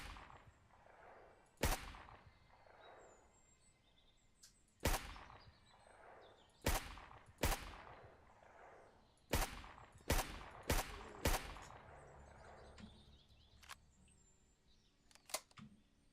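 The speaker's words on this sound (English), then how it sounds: "I'm shooting at you." Gunfire in a video game: sharp single shots spaced irregularly, then a quick cluster of several, each a crisp crack with a short tail over a faint background hum, fairly quiet overall.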